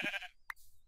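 A sheep in the video game Minecraft lets out a short bleat, followed by a brief second blip, heard clearly and alone in a quiet game scene.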